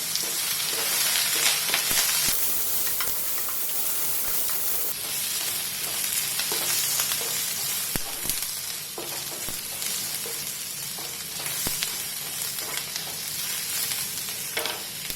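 Onion and garlic masala fries in a pan for bitter gourd and jackfruit seed stir-fry, with a continuous loud sizzle and frequent scraping stirs throughout.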